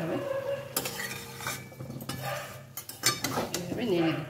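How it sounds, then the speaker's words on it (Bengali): Stirring chicken and potato curry in a pot, Bengali style: a spoon scrapes and knocks against the metal in a close, irregular rhythm, with a faint sizzle underneath. "এভাবে নেড়ে দিতে হবে। কষতে হবে খুব ভালো করে।"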